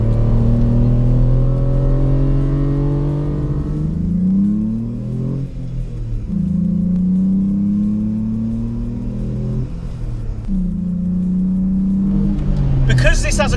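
A modified 2000 Vauxhall Vectra GSI with a 2.5 V6 engine and cone filter revs up and down in long, loud, close sweeps, its deep engine tone rising and falling several times.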